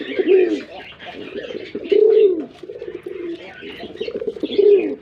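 Pigeons in a loft give repeated loud, throaty coos in rhythmic bursts, close by, with lighter chirps and shuffling between calls.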